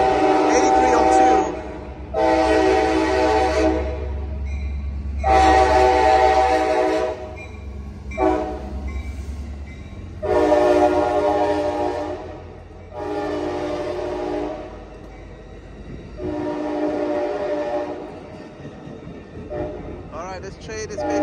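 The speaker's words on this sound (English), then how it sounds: "this is Amtrak 534 train to Sacramento. Now arriving." An Amtrak Capital Corridor passenger train pulls into Oakland's Jack London Square station in cold, rainy weather, sounding several long, loud horn blasts in sequence over a low rolling rumble.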